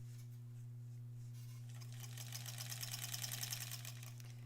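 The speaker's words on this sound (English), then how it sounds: "I'm making the stitch length longer" A sewing machine stitching a basted quilt at a longer stitch length hums quietly, then breaks into a fast, even rattle of stitching in the second half over a steady low electrical drone, with no talk.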